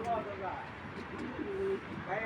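Foreign racing pigeons coo softly nearby in a few low, rolling phrases, with faint background noise around them.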